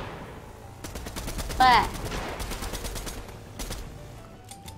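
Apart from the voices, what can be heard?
gunfire in the video game Fortnite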